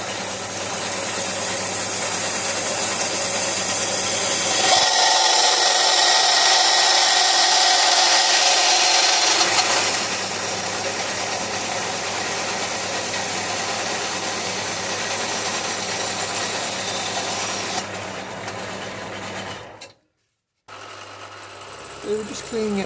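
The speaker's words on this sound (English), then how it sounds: "Let's take it to the bandsaw." A bandsaw runs steadily with a loud, continuous whine and mechanical rattle while cutting a part for a live steam Britannia model locomotive, then stops abruptly, with someone talking over the noise.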